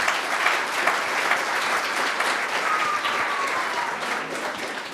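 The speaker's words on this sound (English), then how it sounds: "So let's give a round of applause for Brooke." An audience at a lecture and book signing applauds author Brooke Hodges: dense, sustained clapping that fills the room and holds steady before easing slightly at the end.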